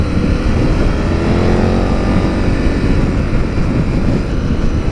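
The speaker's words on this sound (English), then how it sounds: "This engine is so nice and smooth." A KTM 1290 Super Adventure motorcycle engine while riding, a loud, continuous low-pitched drone with rushing wind noise that holds steady and close throughout, with no talk.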